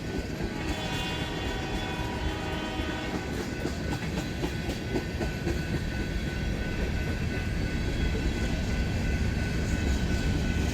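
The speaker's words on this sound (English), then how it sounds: "And we got some garbage cars coming." A CSX freight train with garbage cars rumbles past steadily with continuous clattering of rail cars and wheel noise, a long unbroken roll with no voices.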